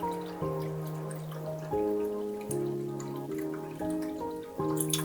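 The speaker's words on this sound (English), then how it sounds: "So I'm going to add water to make sure that happens." Water poured into an Instant Pot around a can of condensed milk, a close, trickling pour whose gurgling pitch shifts in steps as the level rises, heard alone.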